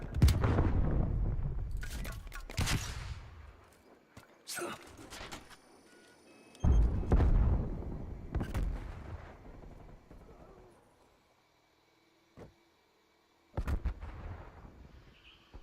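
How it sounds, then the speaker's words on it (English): Grenade blasts and gunfire in the video game Call of Duty Black Ops Cold War: several loud, booming bursts and shots, separated by quieter gaps, with someone talking over the action. "Throwing frag. Throwing stun."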